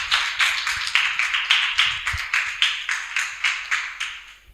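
Audience clapping at a Sunday school children's program as prizes are announced, steady close applause from many hands running throughout with no voices.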